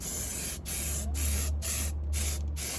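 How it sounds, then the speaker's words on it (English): Sound-dampening undercoating sprayed from an aerosol can, hissing in bursts, roughly six sprays with brief pauses between them, close and steady over a low background hum. "This is the undercoating, sound dampener undercoating."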